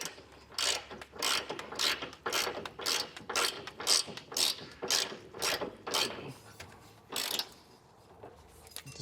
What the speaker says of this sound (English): We can get this tightened down with a 15/16 socket.